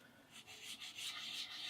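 Close, steady rubbing of sandpaper on a painted guitar body before clear coat, a few rhythmic back-and-forth strokes, soft and alone.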